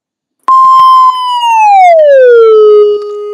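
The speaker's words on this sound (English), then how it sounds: "when a fire truck goes by you blaring its sirens," A single loud, pure fire truck siren tone holds high, then glides smoothly down to a lower pitch and sustains as the truck passes close by.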